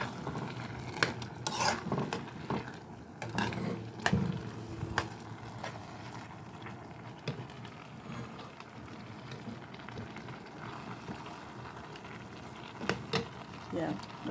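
Masa dough for vegan, oil-free red tamales is stirred in a bowl, with a close spoon scraping and thudding in an uneven rhythm, marked by occasional sharper clinks against the bowl.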